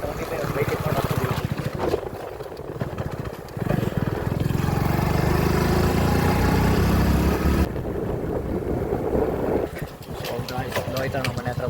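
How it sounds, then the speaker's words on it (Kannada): A scooter ride through the streets of Chikkamagaluru, with a steady engine drone and wind rumble running throughout the clip beneath people talking. "ಈಗ ಬೈಕಲ್ಲಿ ಹೋಗ್ತಿದ್ದೀವಿ ಸ್ಕೂಟಿಯಲ್ಲಿ ಬರ್ತಾ ಇದ್ದೀವಿ"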